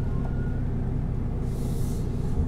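A MAN truck pulls away, its engine giving a steady low rumble that fills the whole stretch at close range, with a faint hiss of air partway through and no voices.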